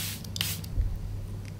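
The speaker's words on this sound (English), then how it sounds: "I'm gonna put in some Charlotte Tilbury setting spray" Charlotte Tilbury makeup setting spray gives a few quick, close hissing bursts from the pump bottle, short and crisp with a low hum behind them.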